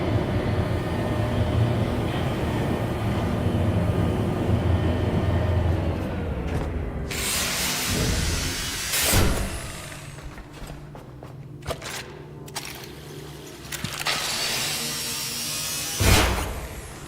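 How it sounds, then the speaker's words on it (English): An elevator running in low power mode in the video game The Last Caretaker drones with a steady mechanical hum, then shifts to a rougher, grinding whir broken by a few loud clanks and surges, with no voices. "I'm surprised the elevator works in low power mode."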